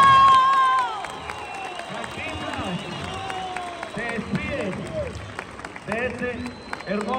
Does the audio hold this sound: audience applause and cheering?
yes